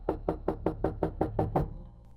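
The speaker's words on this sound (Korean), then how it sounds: "아빠가 노크를 하고 들어오셨다" Eight evenly spaced knocks on a bedroom door, close and firm, then silence.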